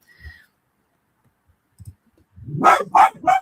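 A dog barks excitedly in the background right after a doorbell, several loud, close barks in a quick burst following a few faint earlier noises.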